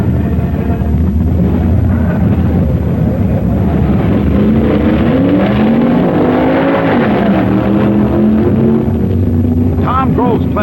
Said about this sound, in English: Bonner's Mustang wins as the veteran Prophet encounters shifting problems.